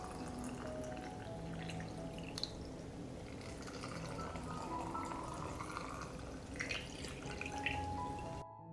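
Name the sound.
pouring water into jars of blueberries for canning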